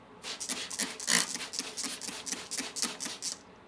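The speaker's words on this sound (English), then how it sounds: "There we go. We got a sizzle." A space heater's hot element sizzles after being sprayed with mist, heard as a run of about a dozen sharp hissing bursts in a quick, fairly regular rhythm, close and clear.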